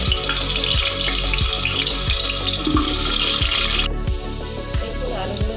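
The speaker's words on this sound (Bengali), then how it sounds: "দেখুন আলুগুলো মোটামুটি এরকম ভাজা হয়ে গেছে" Potatoes fry in white oil in a large pot, a bright bubbling sizzle under a rhythmic series of regular thumps, with the hiss dropping away partway through.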